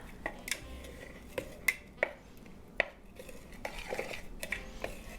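Ingredients for a keto pumpkin cheesecake crust are mixed in a bowl, with a utensil clinking and tapping sharply against the bowl in irregular knocks over soft scraping.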